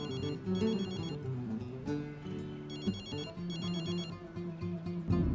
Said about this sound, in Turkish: Ne olur aç şu telefonu.